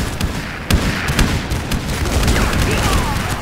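Rapid, dense bursts of explosions and gunfire in the Western shooter video game Lead and Gold, with sharp booms at close range over a continuous loud battle din.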